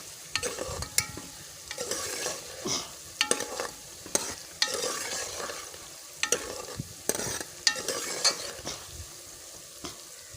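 Ginger and garlic paste sizzles in a hot pan while a utensil stirs and scrapes in repeated strokes, close and steady throughout.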